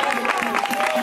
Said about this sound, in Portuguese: e pode dar uma salva de palmas